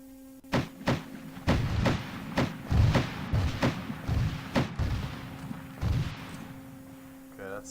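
A series of heavy muffled thumps and booms in the ARMA 3 video game, including a grenade blast, roughly a dozen dull impacts spaced through the stretch, mid-distance and fairly loud, with voices in the background.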